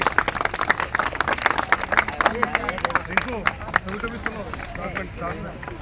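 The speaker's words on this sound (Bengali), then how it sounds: "হাততালি হবে" Audience clapping at a school annual sports event, with scattered, uneven claps from a crowd under a voice speaking over a microphone and background chatter.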